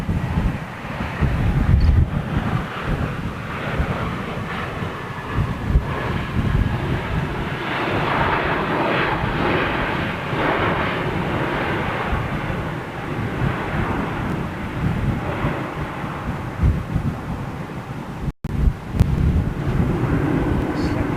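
Loud, steady roar of jet aircraft engines at Toulouse airport with heavy wind buffeting, continuous throughout with a brief dropout near the end.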